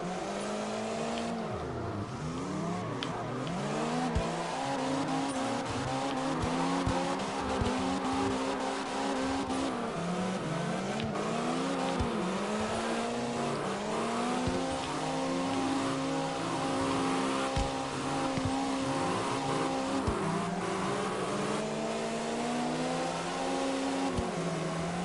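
Car engine revving hard and tires squealing while drifting in the CarX Drift Racing Online video game, with a continuous loud engine note that rises and falls with throttle and long, steady screeching tire slides.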